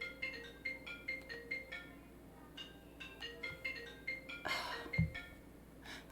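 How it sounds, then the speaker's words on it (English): A phone ringtone goes off in a steady repeating pattern of short electronic tones, fairly loud and alone, with a brief bump and a scrape near the end. "Phone's going off."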